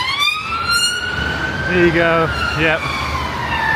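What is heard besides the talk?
ambulance siren passing by in the city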